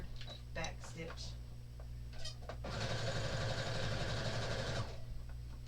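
A sewing machine stitches a seam on a two-toned fleece tote bag, a steady whirring run of about two seconds after brief handling noises and a quiet voice.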